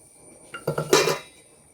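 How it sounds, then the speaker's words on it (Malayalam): A spoon stirs sambar in a metal pot, giving a brief run of clinks and scrapes, a few quick knocks, then quiet. "ഒന്ന് ഇളക്കി കൊടുക്കാം കേട്ടോ"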